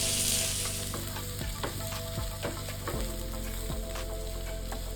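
Sliced onions fry in oil over a medium flame, giving a steady, close hiss broken by a few soft taps of a stirring spoon.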